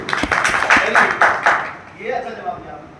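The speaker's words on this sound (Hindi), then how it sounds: "अब इसमें ताली बजाओ, बहुत अच्छा जवाब दिया" Audience at a safety training session clapping in a brief burst of several sharp claps that fades out, close and fairly loud, followed by a voice speaking.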